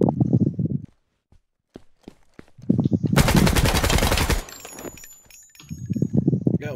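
Ground Branch game gunfire: a long rapid burst of full-auto rifle shots in the middle, set between bursts of in-game footsteps and sparse single clicks, with players briefly talking at times.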